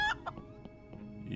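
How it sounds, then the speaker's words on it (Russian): Chickens cluck in a short burst of a few clipped calls in the video game Thimbleweed Park, close and fairly quiet over a faint ambient game background. "Ё-моё, куры какие-то."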